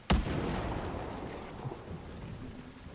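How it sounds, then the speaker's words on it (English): Deep rumbling thunder in the video game Dragon Age Inquisition opens with a sharp crack, then a long low roll that slowly fades under steady ambient noise. "These thunder sounds."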